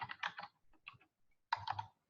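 Keystrokes on a computer keyboard, typed in two quick bursts of several clicks separated by a short pause, close and fairly quiet with no one talking.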